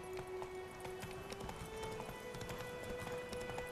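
Faint rhythmic hoofbeats clop steadily over a soft ambient background, like a horse galloping at a distance, in the video game The Witcher 3.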